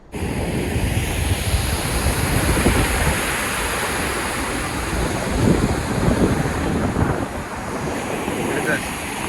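Water rushing down the multi-step falls at Narasipuram, a broad continuous roar with wind buffeting the microphone, steady and loud throughout.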